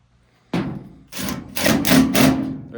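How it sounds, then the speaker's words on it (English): A Phillips head screw driven into a dryer lid, heard as a sharp thud followed by a few close, grinding rubbing bursts as the screw bites and tightens. "There's our second screw going in."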